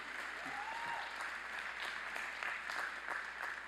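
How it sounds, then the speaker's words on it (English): A large audience at a university commencement ceremony claps steadily and continuously, a dense wash of applause that stays even throughout. "if you give them a big round of applause"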